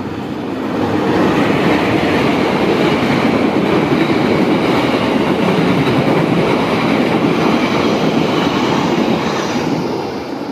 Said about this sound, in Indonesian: Kereta api Pasundan. Mantap.